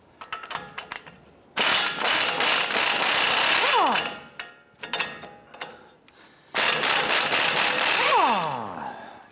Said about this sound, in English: Using a 21mm socket, we're going to go ahead and loosen our outer tie rod end nut.